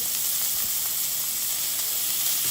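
A burger searing in a cast iron pan with butter gives a loud, constant close-up sizzle and hiss, unbroken and with no talking.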